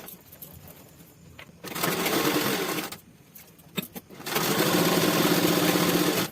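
Sewing machine stitching a kaftan kurti seam in two bursts of steady, fast whirring, separated by a short pause with small clicks, close and fairly loud.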